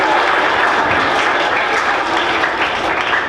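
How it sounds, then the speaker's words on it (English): A classroom of high school boys breaks into sustained applause, dense and even clapping filling the room at steady volume throughout, with no voices standing out. "Yes, let's have a round of applause."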